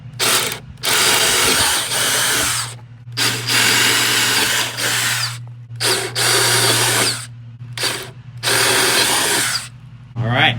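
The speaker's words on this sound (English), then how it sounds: "All right, holes are marked. Let's drill them." Power drill boring engine mounting holes into a lowrider go-kart frame, running in several loud, close bursts separated by short pauses, with a steady low hum continuing underneath throughout.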